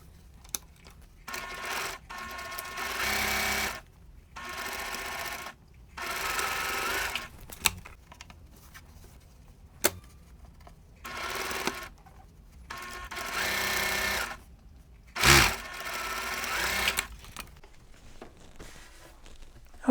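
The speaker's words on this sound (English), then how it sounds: "And then sew." A sewing machine stitches Christmas quilt block pieces in repeated bursts of rapid, close whirring, separated by short pauses, with a sharp click or two between runs.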